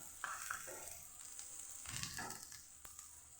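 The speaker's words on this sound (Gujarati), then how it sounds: "અહીં આપણે મીઠા લીમડાના પાન ઉમેરશું અને લીલા મરચાં પણ ઉમેરશું" Curry leaves and green chilies sizzle in hot oil for spot idli, a steady crackling hiss with a few sharper pops, close and fairly quiet, with no voices.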